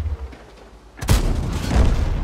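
A Panzer IV tank cannon in World of Tanks fires an HE shell: a single loud, deep blast about halfway through, followed by a lingering low rumble after a quieter stretch.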